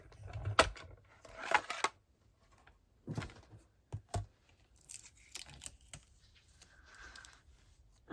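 A die-cutting machine rolls card stock through a Sketched Butterflies die, giving scattered clicks, crinkles and short rolling bursts at close range, with quiet gaps between them.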